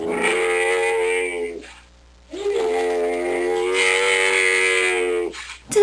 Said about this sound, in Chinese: 答案是骆驼。